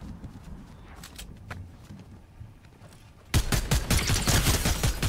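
Dense bursts of rapid gunfire from a Fortnite ranked zero-build match near a barn, erupting loud and close after a quieter stretch of faint footsteps and distant shots.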